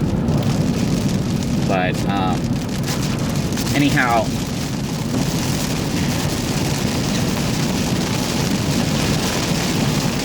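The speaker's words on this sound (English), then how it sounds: "it is like pouring rain over here" Heavy rain pours steadily over a yurt area as a dense, continuous wash of noise, with someone briefly speaking near the microphone early on.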